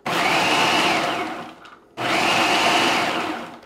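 A food processor pulses twice, each burst a loud, close whirring roar lasting about a second and a half, separated by a short drop as the motor spins down.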